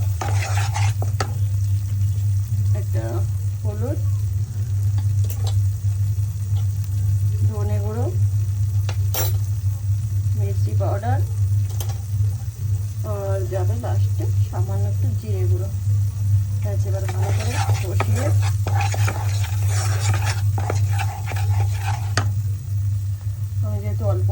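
Onion, ginger, garlic and green chili paste sauté with spices in a pan under a constant low hum. Intermittent stirring scrapes and sizzling come through, with a voice talking now and then.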